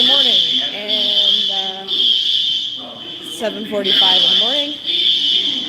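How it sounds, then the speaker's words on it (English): A hotel fire alarm sounds during a furry convention in Indianapolis early in the morning, a continuous shrill electronic tone running the whole time while several people talk loudly over it nearby. "And the fire alarm is going off again."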